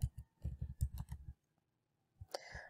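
A computer keyboard typed in a quick burst of crisp clicks during a spreadsheet lecture, followed by a pause and then a few scattered keystrokes.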